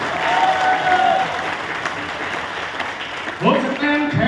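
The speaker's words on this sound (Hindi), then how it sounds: "ताली बजाएंगे।" Audience applause at a motivational mentoring seminar in Thailand, a dense wash of clapping filling the room, with a speaking voice rising over it near the end.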